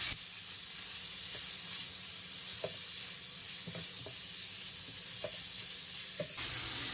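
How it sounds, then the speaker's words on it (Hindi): Beef with turmeric, kasuri methi and salt being stir-fried for tikka masala, a steady close sizzle with occasional scrapes and stirring knocks of a spoon in the pan. "अच्छे से हम इसको भून लेंगे।"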